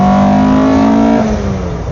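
A 1972 Alfa Romeo Giulia Super Twin Spark accelerates hard in second gear, its engine note loud and close, rising steadily in pitch before easing off near the end.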